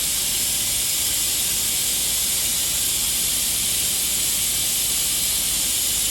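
Oil being pumped out of a Jaguar F-Type R engine through an opened valve, a steady loud hiss of rushing fluid and air that holds constant throughout without pause.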